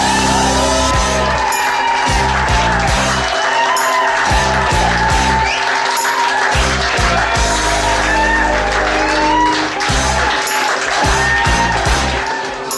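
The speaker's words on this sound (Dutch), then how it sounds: "uw hartelijk applaus voor" A studio audience applauds and cheers for the FC Nerds team, a loud, steady wall of clapping with whoops and shouts over upbeat music, continuous throughout.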